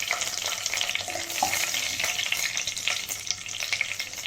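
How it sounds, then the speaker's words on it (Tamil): Green chillies frying in hot oil with cumin and fennel seeds for a Tamil chicken gravy, giving a steady loud crackling sizzle with sharp pops throughout, no talking. "இப்போ பச்சை மிளகாய் போட்டுக்கலாம்."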